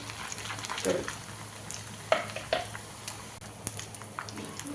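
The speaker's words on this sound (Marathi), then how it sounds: "तर या नूडल्स अजिबात मंद गॅसवरती तळून घ्यायच्या नाही आहेत ह्या मोठ्या गॅसवरतीच आपल्याला तळून घ्यायच्या आहेत" Noodles frying in hot oil over a high flame, a soft steady sizzle with occasional louder crackles and utensil clinks, close by and moderate in level.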